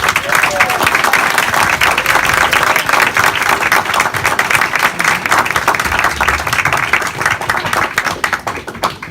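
A live comedy audience claps and cheers for a comedian, loud dense applause sustained for several seconds with a voice over it.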